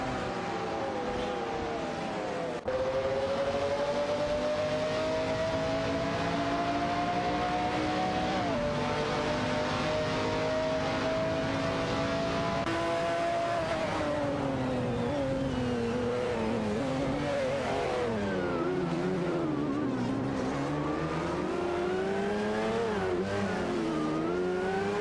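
Race cars in an AI-driven video game race engage in a close battle, their engines whining loud and continuous, pitches rising and falling as they swap positions through the last lap; no talk.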